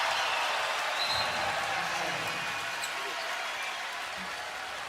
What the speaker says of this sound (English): Listen to the crowd here.